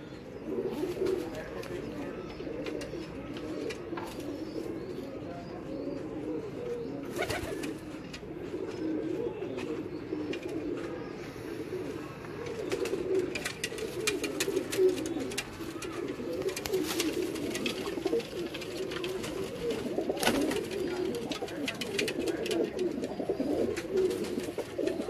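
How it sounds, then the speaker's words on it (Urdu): A teddy pigeon coos steadily at a pigeon loft in Multan, soft low cooing repeating throughout over a continuous background hum, with occasional clicks and faint voices. "یہ ان کا مین کمانڈو ٹیڈی کبوتر ہے"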